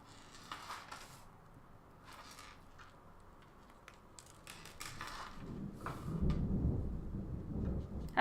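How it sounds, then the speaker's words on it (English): Thunder from a storm rumbles low and distant, building into a deeper, swelling roll over the last few seconds. Faint clicks and handling noises sit over it, with no speech. "I don't know if you guys can hear the thunder."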